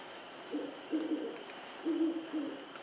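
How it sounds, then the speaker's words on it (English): An owl hoots softly in the grey light before dawn, two pairs of low, muffled hoots spaced about a second apart, distant and alone over a quiet background. "An owl flies overhead."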